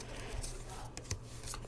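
Magic: The Gathering cards from an Innistrad Midnight Hunt set box are flicked through by hand. Faint, quick papery riffles and slaps come close to the listener.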